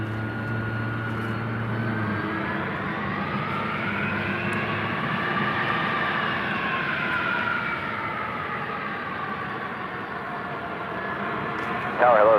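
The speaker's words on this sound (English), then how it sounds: "an A321 just flying over our heads" An American Airlines A321 passes overhead at LAX, a sustained jet roar whose pitch bends slowly as it flies over, fairly close and loud throughout.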